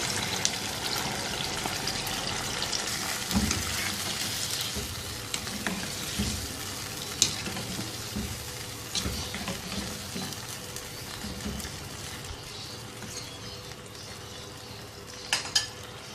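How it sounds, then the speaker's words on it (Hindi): Chicken karahi with yogurt is stirred in a sizzling pan, a continuous frying hiss with scraping and clinks of the spoon against the pan throughout, close and steady with no talking. "अच्छी तरह से दही को मिक्स करने के बाद फिर से ढक्कन लगा के"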